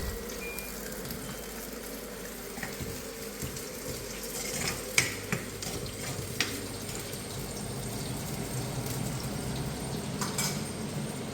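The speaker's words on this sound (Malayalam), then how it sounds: "നമ്മളിതിൽ ഉള്ളി വഴറ്റിക്കൊണ്ടിരിക്കുന്നതിൽ നമ്മൾ വെളുത്തുള്ളി ഇടുകയാണ്" Onions sizzle and fry in a pan for a Kerala fish curry as garlic goes in, with a steady crackle under the occasional clink and scrape of stirring, close by and without talk.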